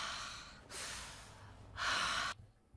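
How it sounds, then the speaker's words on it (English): Hard sniffing from a male anime character pressing close to a woman: two loud, harsh bursts of breath drawn in through the nose, each about half a second long, separated by a brief pause. "My man is sniffing her hard"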